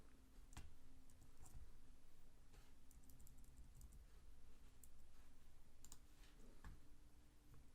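Arrow keys on a computer keyboard pressed in sparse, quiet clicks scattered over a soft steady background hum, with no talking.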